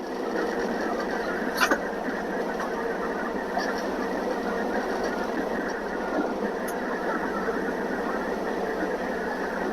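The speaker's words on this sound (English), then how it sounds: "The little motor runs good." A small motor runs steadily and continuously at close range, giving a whining, sewing-machine-like drone with a faint squeal and a few brief clicks over the top.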